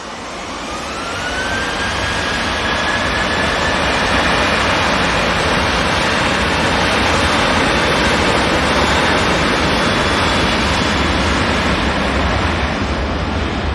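TUI jet airliner departing Manchester Airport, a loud sustained engine roar with a rising whine that builds over the first seconds and then holds steady and strong.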